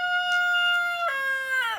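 A rooster crows in one sustained, clear call lasting under two seconds, loud and close, with a sharp drop in pitch partway through and a falling tail at the end, alone without talk.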